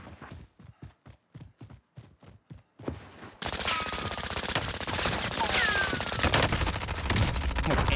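An MP7 submachine gun with a 60-round magazine firing in Call of Duty: Warzone, first in short separated bursts, then a long sustained roar of automatic fire, loud and close.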